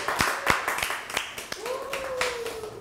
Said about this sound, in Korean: 박수 시작해.